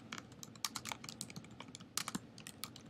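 Typing on a computer keyboard while creating a Wikispaces account, close, rapid and irregular key clicks in quick clusters, fairly soft, with no voice.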